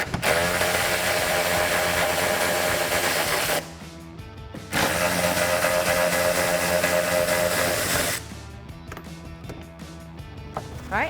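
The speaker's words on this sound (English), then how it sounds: "Grab a 10mm socket and remove the 2 nuts." A powered driver with a 10mm socket whirs loudly as it spins off hood nuts on a 2018-2020 Ford Mustang. Two long buzzing runs of about three seconds each are split by a short pause, followed by choppier bursts, close up and with no talk.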